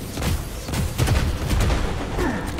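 Enemy gunfire in the Immortal: Unchained game, a loud dense volley of overlapping shots and impacts filling the short stretch without pause, with no talking.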